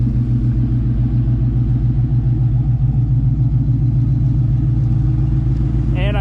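Heard from inside while driving, a Ford Mustang Mach 1 with a built small-block V8 rumbles deep and steady at constant throttle, loud and close, with a brief faint chirp near the end.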